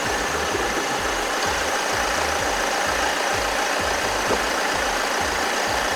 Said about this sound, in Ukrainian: Дядя Саша, глуши!